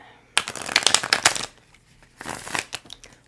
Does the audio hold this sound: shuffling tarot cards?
yes